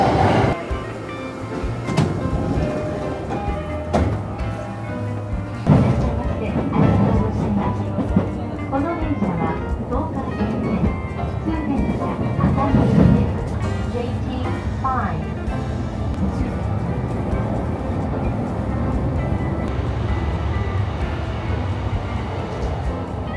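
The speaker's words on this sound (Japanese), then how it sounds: "次に乗るのは6時5分発の熱海行きの列車です" Steady rumble of a commuter train to Atami in motion, Japan, with rattling and occasional clicks, a person speaking over it throughout.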